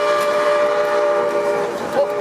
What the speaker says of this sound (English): The next whistle we hear is going to be our warning whistle for the high bridge.